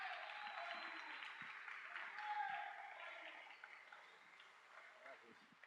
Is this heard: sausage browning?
no